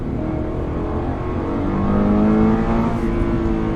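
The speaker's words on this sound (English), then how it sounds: "It revs way up" Subaru BRZ engine revving during a downshift, heard from inside the car as a steady, loud engine drone that climbs in pitch and swells toward the middle before easing slightly.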